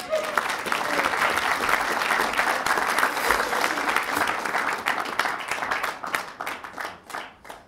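A live music audience gives a warm round of applause for a singer, loud sustained clapping that thins out and tapers toward the end.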